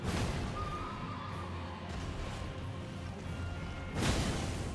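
A horse in the Elden Ring video game lets out a loud, drawn-out whinny amid game combat noise, followed by a sudden crashing burst near the end.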